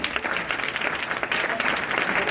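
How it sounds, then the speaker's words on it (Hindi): A short, loud burst of audience applause fills the room, dense and continuous throughout, with little else audible. "हमारे अमरदेव सर के लिए एक बार जोरदार ताली होना चाहिए"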